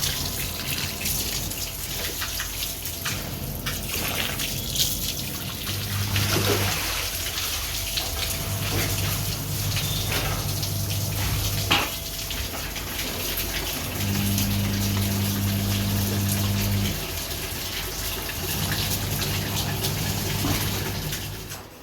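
Water runs steadily from a tap on a home balcony during washing, a constant rushing hiss that fills the whole stretch, with faint clatter and occasional low hum beneath it.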